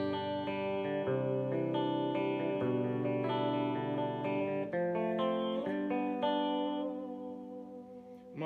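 Clean Gibson SG electric guitar, middle pickup, through a 1974 Peavey Classic amp with only a reverb pedal, playing sustained chords and notes that ring with reverb tails before fading.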